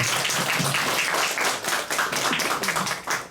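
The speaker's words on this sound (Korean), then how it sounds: "좋은 말씀을 해주신 범일스님께 박수 한번 부탁드립니다" Audience in a lecture hall at Dongguk University applauding a Buddhist monk after his talk, a close, busy patter of many hands clapping with uneven swells, no voices.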